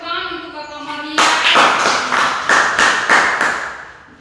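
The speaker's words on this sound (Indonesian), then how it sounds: "Baik, semua tepuk tangan untuk Kakak Maria." Students in a classroom clap after a classmate's presentation, a tone-like sound giving way to a run of distinct, fairly loud rhythmic claps, roughly six or seven in an even beat.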